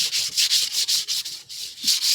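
Rhythmic back-and-forth rasping of sandpaper on a carabao horn, close and steady, with about a dozen strokes and a brief pause midway.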